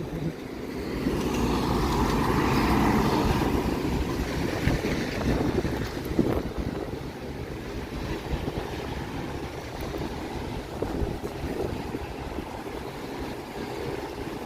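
Strong wind buffets the microphone at a stormy Toronto harbourfront, a steady roaring rush with low rumble and gusts that swell early and stay loud throughout, with no voices.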